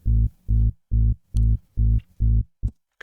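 Sub Bass 4 synth preset in the Vital synthesizer: six evenly spaced, deep, heavy bass notes in a steady pulse, then a short clipped final hit, loud and close with near silence between notes.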